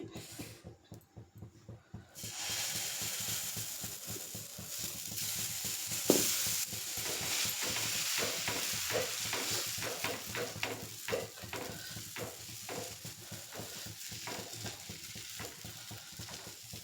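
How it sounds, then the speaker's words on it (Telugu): Dosa batter sizzles on a hot pan, a steady close crackling hiss with a rhythmic scraping pattern running through it, quiet and free of speech. "నేను ఇక్కడ పాన్ పెట్టాను, దోశ వేసి చూపిస్తాను."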